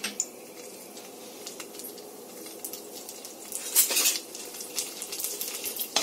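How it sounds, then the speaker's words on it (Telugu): Mustard, fenugreek and cumin seeds spluttering in hot ghee for tomato charu, a soft sizzle with scattered pops that swells near the end, along with the clink of a metal spoon against the pan, no talking. "చూస్తున్నారా ఆవాలు వేగుతున్నాయి."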